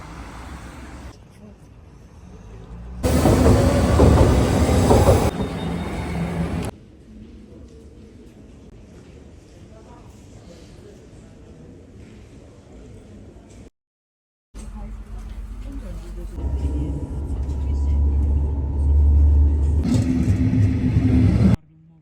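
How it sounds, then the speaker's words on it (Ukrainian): Steady urban traffic rumble from cars and passing vehicles, with louder engine passes and changes in level between stretches of continuous city noise and one brief silence, no talk. "Все довкола гуде шум, люди, машини і так зранку до ночі."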